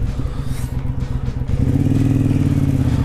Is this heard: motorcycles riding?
yes